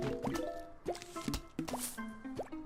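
Zombies in the Plants vs Zombies pool level drop into water with a run of wet plops and drips, several splashes in quick succession over a bright, busy game soundtrack.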